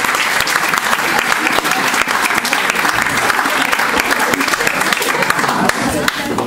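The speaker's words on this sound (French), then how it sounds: "Et là, vous pouvez vous applaudir." An audience at a school event claps loudly and steadily, a dense, sustained wash of applause filling the whole stretch.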